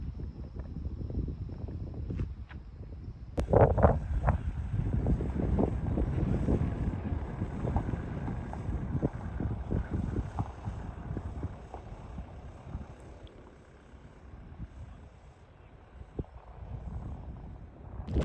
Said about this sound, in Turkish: Rüzgarlı bir hava var.